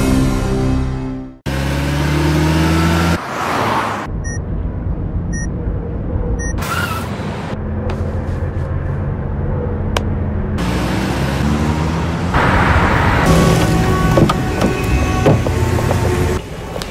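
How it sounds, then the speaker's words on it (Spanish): Car sounds from a Chevrolet Onix TV commercial, mixed with musical tones and effects in abrupt edited segments, loud and continuous with no voices. "Nuevo Chevrolet Onix con MyLink y Chevistar, el carro diseñado para hoy."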